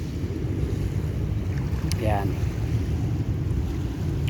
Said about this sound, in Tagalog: ito po ating dagat mga kaunlad